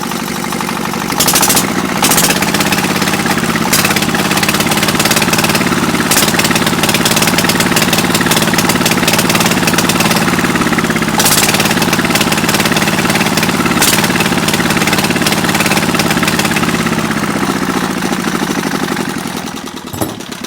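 Zubr R180 single-cylinder diesel walk-behind tractor, running after repair following freeze damage, hammers steadily and loudly with a rapid knocking beat that holds for about twenty seconds before cutting off near the end.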